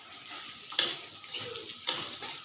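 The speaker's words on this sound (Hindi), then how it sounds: "हम परवल भूज रहे हैं" Pointed gourd (parwal) frying in a pan in a home kitchen, a soft sizzle broken by two sharp stirring scrapes, fairly quiet.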